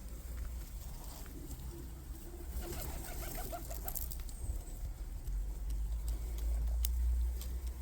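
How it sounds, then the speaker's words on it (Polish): Homing pigeons back from a 10 km flight coo and flutter faintly in a car park, over a steady low rumble of wind and distant traffic. "Tyle wróciło gołębi przede mną."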